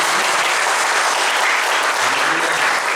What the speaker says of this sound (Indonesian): Sebelum duduk, beri tepuk tangan yang paling meriah buat Yesus.